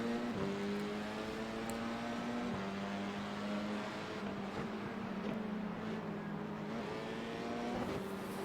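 F4 race car engines drone and rev at the start of a race at Rudskogen in a racing video game, a steady loud engine tone shifting pitch through gear changes, with several cars heard together and no talk.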